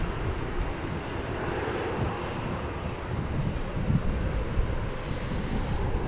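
An American Airlines Airbus A321 at DFW airport rumbles as a broad, steady jet roar, blended with heavy wind buffeting on the microphone, continuous and fairly loud without clear peaks; no speech.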